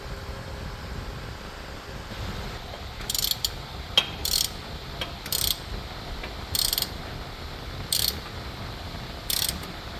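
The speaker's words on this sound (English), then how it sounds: "Now we're reinstalling the steering box nut." A ratchet tightens the steering box nut on a Jeep Wrangler JK, clicking in about six short bursts at a steady, unhurried pace, close and clear over a low background hiss.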